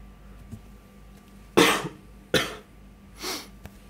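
Three separate coughs, each a short harsh burst, spaced about a second apart against a quiet background.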